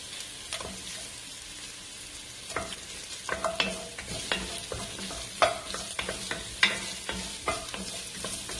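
Ginger and dried chili hit hot oil with shallot and garlic, frying as a soft, steady sizzle broken by repeated clacks and scrapes from stirring.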